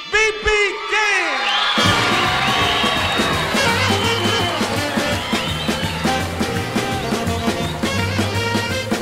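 A live concert audience welcoming a blues singer cheers, whoops and applauds loudly, a dense and steady roar from the crowd that opens with shouted voices and continues without a break.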